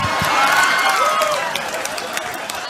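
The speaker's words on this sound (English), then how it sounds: "I can't believe you clapped about that." A comedy club audience claps and cheers together, a dense burst of applause that peaks early and then thins out gradually with scattered claps, with voices mixed in.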